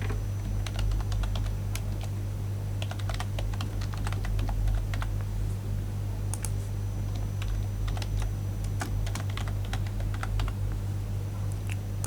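A computer keyboard being typed on as a username is entered, with quick irregular key clicks in short bursts over a steady low hum, close and fairly quiet, no voices.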